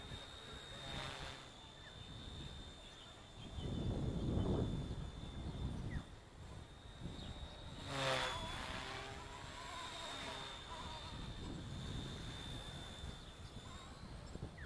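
An E160 RC helicopter with longer blades cruises at low head speed at a park, producing a thin continuous rotor whine with whooshing swells as it passes nearer and farther.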